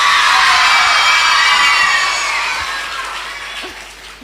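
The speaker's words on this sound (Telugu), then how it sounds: "మరి అందరం చప్పట్లు కొడదామా?" Children at a Sunday school festival clapping and cheering as a crowd, a loud sustained wash of applause that slowly fades.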